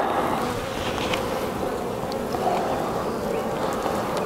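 Honey bees in an open Dadant hive during an inspection, a dense continuous buzzing hum from many insects close by, steady throughout with no talk.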